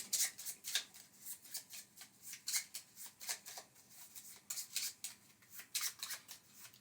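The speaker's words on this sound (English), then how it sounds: "then we're going to shuffle their deck up" A deck of Wingspan board game cards being shuffled by hand, a quick series of soft riffling, flicking bursts repeating in an uneven rhythm, close and fairly quiet with no speech.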